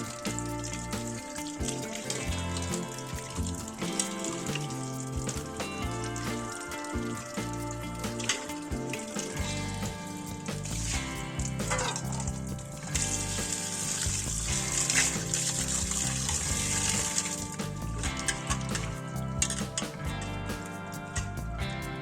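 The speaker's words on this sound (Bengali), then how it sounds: "এরপর মাছটা ধুয়ে নিচ্ছি" Fish is washed under running water at a kitchen sink. The water splashes and rushes steadily at a low level, with faint clatter throughout and no talking.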